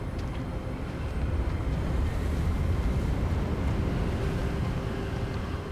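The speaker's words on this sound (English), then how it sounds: "Getting awfully windy." Steady wind gusts roar across an open area in the video game Hogwarts Legacy, a continuous broadband rush that swells slightly and holds at an even, loud level with no talking.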